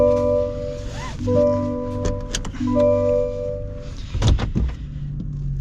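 A Chevrolet Silverado pickup with a 2.7-litre four-cylinder engine hums with a buzzy, tonal drone that rises and steps between pitches, with a couple of soft thunks near the end.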